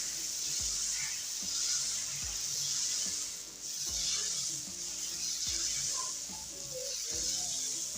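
Mysore masala dosa batter spread thin cooks on a hot gas griddle, giving a soft, continuous sizzle and hiss with faint scattered ticks and scrapes, quiet and steady throughout.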